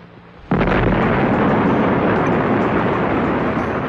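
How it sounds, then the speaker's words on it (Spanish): An atomic bomb test explosion in the Nevada desert bursts in suddenly and loudly, then holds as a sustained, broad, rumbling roar with no voices. "Ver la explosión de una bomba en el desierto de Nevada puede parecer hoy en día algo trivial"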